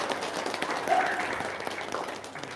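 Audience applause in a seminar hall, a steady wash of clapping at moderate level, fairly even throughout with little else heard.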